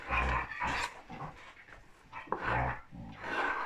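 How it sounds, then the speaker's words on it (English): Several dogs pant heavily and scuffle in play nearby, with rhythmic breathy bursts and a few low growls, close and fairly clear with no talking. "And the dogs are there in the background playing and having fun."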